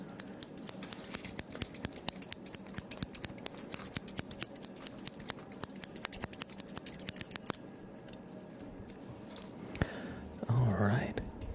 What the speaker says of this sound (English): I need to trim actually my facial hair